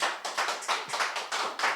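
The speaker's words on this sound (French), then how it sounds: "il faudrait faire aussi un tonnerre d'applaudissements" Applause at a gala event honouring kosher supervisors, heard as a few rhythmic bursts of clapping in quick pulses, fairly soft and close, with no talk over it.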